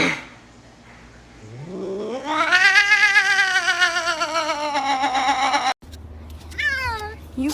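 A cat gives a long, loud, drawn-out meow with a rising then falling pitch, followed after a short gap by a shorter second meow, amid a lighthearted cats-versus-cucumbers scene.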